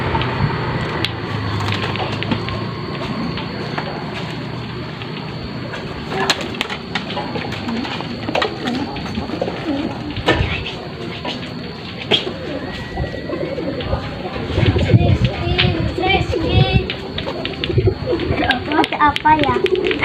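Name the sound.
pigeons cooing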